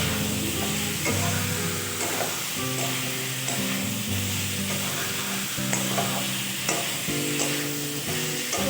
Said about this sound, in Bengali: এগুলো দিয়ে আমি একটুখানি এটা কষিয়ে নেব।